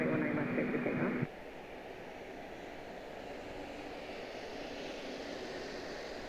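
A Delta airliner departing runway 19 left at Washington Dulles, heard as a broad, steady engine roar at a distance after a brief radio-style voice transmission at the start.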